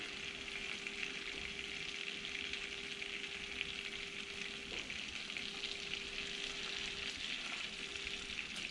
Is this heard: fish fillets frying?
yes